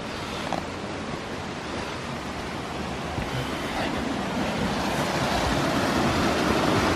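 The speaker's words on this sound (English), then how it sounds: "So beautiful though. Look at this river." A river flows steadily on a countryside walk, a broad, even rush of water close by that holds at one level throughout with no voices over it.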